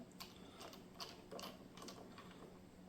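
A screwdriver works the small bottom screws of a VKB STECS Mini controller, a series of faint close ratcheting clicks in quick irregular bursts with no talking.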